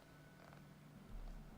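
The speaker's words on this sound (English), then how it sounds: "It's just one of the cats." A domestic cat purrs steadily close by, a low continuous rumbling with a soft pulsing rhythm and no other sounds.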